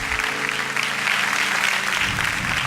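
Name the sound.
church congregation applause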